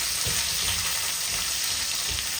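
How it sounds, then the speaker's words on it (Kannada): Green chillies and onions fry in a pan with a dense, loud, continuous sizzle and a steady crackle close by, without a break. "ಹಸಿಮೆಣಸಿಕಾಯಿ, ಈರುಳ್ಳಿ, ಪಟ ಪಟ ಅಂತ ಆರ್ತೈತೆ"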